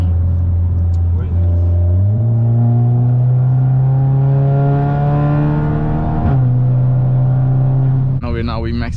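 BMW M4 Competition racing an Audi S3, a loud engine revving steadily upward through two gear changes, the whine climbing in pitch, with people talking over it near the end.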